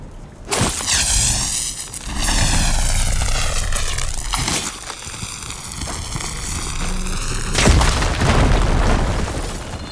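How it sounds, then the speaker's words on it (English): A fire gleam deposit blasted apart in Horizon Forbidden West: a sharp burst at the start, then a long, loud rumbling roar with whooshing and swelling tones, and a second heavy boom near the end. "Should be able to blow up that fire gleam"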